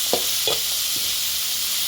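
A spoon stirs Kathiyawadi baingan olo, a brinjal dish, in a pan, giving a few soft scraping strokes over a steady, close, bright sizzle, with no voices.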